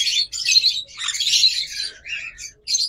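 Sun conures, a pair of large red-factor parrots, call in a run of shrill, harsh screeches and squawks, nearly continuous with short gaps, close and loud with no talking.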